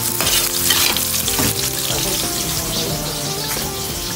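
Garlic frying in a pan hisses loudly and steadily nearby, with stirring scrapes and a watery crackle running throughout, and no speech.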